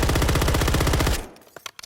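A Ram 9 submachine gun in Call of Duty: Modern Warfare 3 fires a fast, loud automatic burst for just over a second, then stops, followed by a few faint clicks and echoes.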